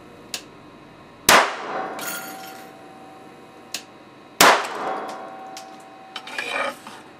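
Capacitor bank discharged into an old radio circuit board, two sharp loud bangs a few seconds apart, each followed by a brief crackling, rattling tail, with small clicks between.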